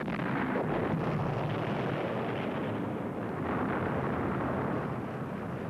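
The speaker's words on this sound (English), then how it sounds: "It began with a pre-invasion bombardment at 5:30 a.m.," Pre-invasion artillery bombardment of Guam at dawn, a dense, continuous roaring rumble of heavy shellfire, loud and unbroken with no distinct separate blasts.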